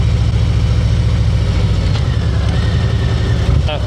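A Harley-Davidson motorcycle on the Historic Triangle road, its engine rumbling low and steady while riding, loud and close with wind noise throughout.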